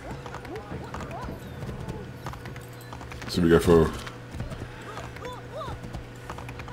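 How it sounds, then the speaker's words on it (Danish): A horse galloping in the video game Assassin's Creed III, with steady hoofbeat clip-clops running underneath continuous Danish commentary and a brief louder burst midway. "Tænker jeg, nu sætter vi gang i hesten her."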